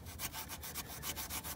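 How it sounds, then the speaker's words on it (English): Old gasket material is scrubbed off a machined aluminum billet part on a Toyota 1JZ/2JZ engine with Scotch-Brite, close up, a rapid rhythmic rasping rub of about eight quick back-and-forth strokes, alone. "We gotta clean all this old gasket material off with some Scotch-Brite."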